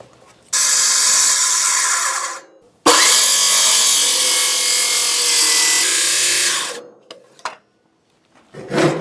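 Saw cutting an angled board for shed framing, two loud close bursts of harsh rasping strokes, the second long and continuous, then a few clunks and faint handling sounds.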